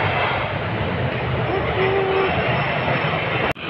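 An LRT light-rail train rolls along, filling the ride with a steady, close rumble and a whining hum of running gear. A brief higher tone appears midway, and a sharp click sounds near the end.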